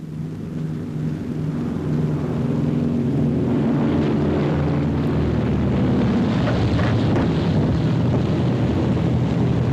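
Wartime fixed-wing propeller aircraft trailing smoke on final approach to land on a US Navy aircraft carrier, heard as a steady, loud engine drone with wind rush that swells slightly and holds throughout, no talking.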